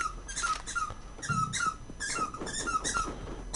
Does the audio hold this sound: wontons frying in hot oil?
no